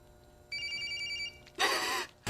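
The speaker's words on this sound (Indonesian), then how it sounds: "Mendengar HP si bewok berdering, Mary pun berusaha mengambil HP tersebut" A mobile phone rings in a dim shop setting, a short electronic tone pattern sounding for about a second, then a louder burst of broad noise follows.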